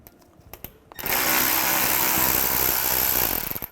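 A power tool fitted with a T25 socket spins a bolt out on a 2007-2013 Mini Cooper during AC condenser replacement: a few light taps, then a loud, continuous whirring drive for several seconds.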